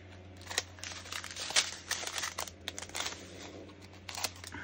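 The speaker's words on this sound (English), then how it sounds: "Nice to have some sharp scissors," Sharp scissors snip through plastic bags while kitting up a diamond painting, giving close, crisp, irregular cuts mixed with crinkling plastic, with no speech.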